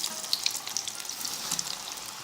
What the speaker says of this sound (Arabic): الان الزيت ديالنا راه سخنات. على بركه الله غادي نبداو باش نحطوا الكالامار ديالنا على هذا الشكل هذا.